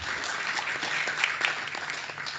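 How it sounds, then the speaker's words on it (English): A small audience claps briefly and fairly faintly at the launch of a transport council, a short patter of hands that runs on steadily for a couple of seconds. "a bit of a clap"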